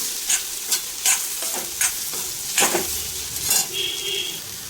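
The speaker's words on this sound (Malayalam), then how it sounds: "എന്നിട്ട് നന്നായിട്ട് വറുക്കുക" Coriander powder masala stir-fried in a pan sizzles softly underneath, with a spoon or spatula scraping and clinking against the pan in a series of quick, irregular strokes.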